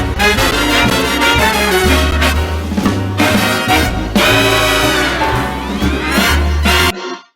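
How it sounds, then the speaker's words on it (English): Recorded 1930s swing music, with brass instruments carrying the melody over a piano accompaniment, played loud and continuous until it stops abruptly near the end. "Brass instruments play melody. Piano plays an accompaniment."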